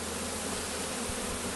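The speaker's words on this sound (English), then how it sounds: "there's still quite a few bees in the box" Honeybees remaining inside an open hive box, a dense continuous buzzing hum heard close and steady with no voices over it.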